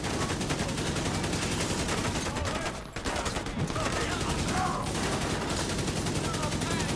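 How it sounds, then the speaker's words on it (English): Rapid video game gunfire while shooting at enemies: dense, sustained bursts of shots crackling almost continuously, loud and close, with a brief dip near the middle before the firing resumes at full intensity. "I'm gonna shoot at everything else except this heavy, basically"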